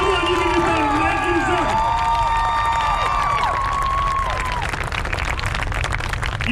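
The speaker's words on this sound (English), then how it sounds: "Give yourself a big round of applause." Audience applause and cheering at a Marine Corps graduation ceremony, loud and sustained throughout, with whoops and shouts rising over the clapping and a voice talking over the crowd.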